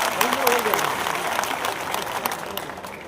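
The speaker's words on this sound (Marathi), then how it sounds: "आपण जोरदार टाळ्या वाजवून त्यांचं स्वागत करावं।" An audience claps loudly to welcome a legislator at a public gathering, a dense burst of applause heard close and fairly loud, with a voice briefly audible over it near the start.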